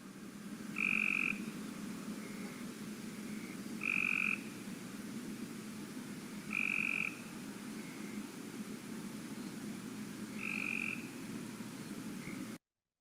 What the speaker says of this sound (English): And the Cope's gray tree frog is a little bit more buzzy.